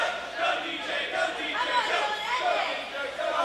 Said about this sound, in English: Crowd willing on DJZ